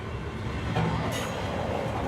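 Historic trains at a Dutch railway museum give off a steady rolling rumble with faint rail clatter and a brief brighter hiss partway through, moderately loud with no speech.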